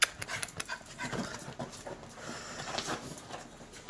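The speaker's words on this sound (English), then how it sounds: "This dog would get in the Arga if she could." A dog pants quickly and unevenly at close range, with faint whimpers mixed in over soft background noise and no talking.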